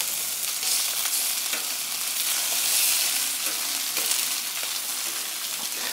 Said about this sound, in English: Bacon's crisping up lovely.